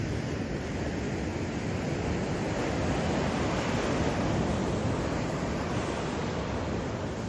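Waves break on a beach in surfing weather, making a steady, dense, continuous wash of surf mixed with wind buffeting the microphone, with no voices heard.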